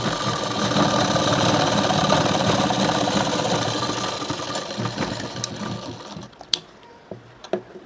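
A sewing machine runs steadily while stitching a little girl's blouse for a 4 to 6 year old, a continuous close mechanical whir that thins out and stops near the end, leaving a few faint clicks.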